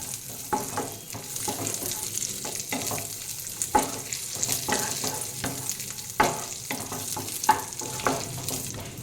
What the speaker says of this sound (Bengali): যখন একটু কাজুগুলো লালচে ভাব চলে আসছে সেই সময় দিয়ে দিচ্ছি কিশমিশগুলো। এগুলো একটু ভেজে নেব